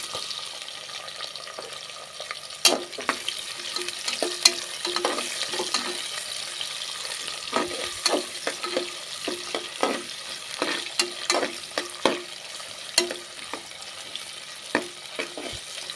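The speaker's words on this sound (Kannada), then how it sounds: "ಗೋಲ್ಡನ್ ಬ್ರೌನ್ ಬರೋವರೆಗೂ ಈರುಳ್ಳಿನ ಫ್ರೈ ಮಾಡ್ಕೋಬೇಕು" Sliced onions fry for egg biryani, a soft continuous sizzle broken by repeated sharp spoon-against-pan stirring clatters, close and fairly loud with no talking.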